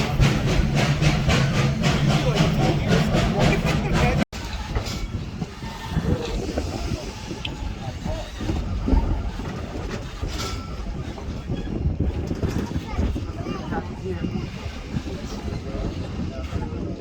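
Virginia & Truckee Railroad steam locomotive No. 29 rumbling close by as its brakes are applied, a steady heavy rolling roar with rail clatter, while people talk over it.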